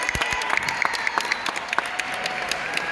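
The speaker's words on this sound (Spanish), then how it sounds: "¡Aplauso!" Clapping from an audience at a Hispanic Heritage Month event inside the New York Hall of Science, steady scattered claps with sharp individual hits and whistles over a lively crowd.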